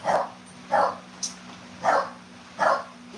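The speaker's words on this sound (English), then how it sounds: "the dogs want to be a little crazy right now" Dogs bark in a home setting, five short sharp barks spaced roughly evenly over a few seconds, moderately near, with a low steady hum underneath and no talk.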